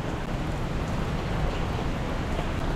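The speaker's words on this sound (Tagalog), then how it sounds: "lumakas yung ulan" Heavy rain falls as a dense, steady roar of broadband hiss and patter. It is close and loud throughout with no breaks, and no voices can be heard.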